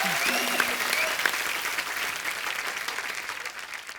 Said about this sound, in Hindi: फिरंगी के लिए जोरदार तालियां बजा दो